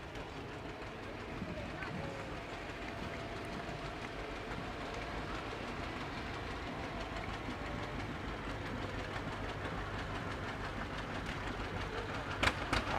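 John Deere tractor club tractors rolling in a Veterans Day parade give a steady low engine rumble with rattling and clacking throughout, a sharp click near the end, and voices underneath.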